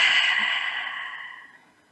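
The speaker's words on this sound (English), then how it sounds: "so let's take a deep breath" One long, breathy exhale, strongest at the start and fading smoothly over about two seconds, close and alone.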